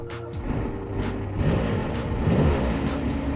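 A Porsche 962 Le Mans race car engine cranks on its key and catches, then settles into a rough, throbbing idle with deep low rumble.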